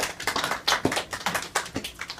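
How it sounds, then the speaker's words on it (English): A brief burst of scattered hand clapping, uneven and fairly close, lasting a couple of seconds. "let's give them a round of applause"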